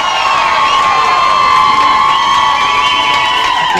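A stand-up comedy crowd cheers and whoops for comedian Nitin Kamra as he takes the stage, a loud, steady roar of voices sustained throughout with no pause.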